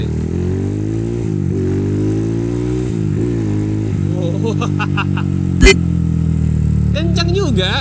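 A fuel-injected Yamaha Scorpio 225 cc motorcycle engine revs and accelerates up through its gears, loud and close, with a short sharp noise partway through.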